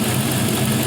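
A 5.3L LS V8 engine with about 140,000 miles and a new oil pump runs and warms up, a loud, steady, close-up rumble with no speech.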